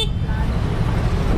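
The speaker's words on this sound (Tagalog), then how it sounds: "Saka malakas din yung busina niya." A short burst of a GOVA 03 e-bike horn over a low rumbling motor and road noise, steady and close throughout.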